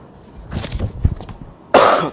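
A man coughs at a press briefing: soft throat-clearing rasps first, then one sharp, loud, close cough near the end.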